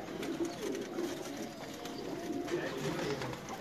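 Pigeons cooing in a pigeon loft in Multan: continuous soft, low cooing from several birds blended into a steady murmur, fairly faint, with quiet talk mixed in.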